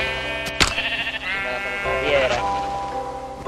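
A sheep in Minecraft gives a couple of clear, wavering bleats close up over a steady droning game background.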